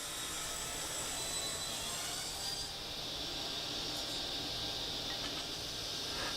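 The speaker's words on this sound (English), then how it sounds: "And cutting the 45-degree miter on the top now." A saw cuts a 45-degree miter across very hard Kari hardwood, making a loud, steady rasping noise that runs continuously throughout with no talk.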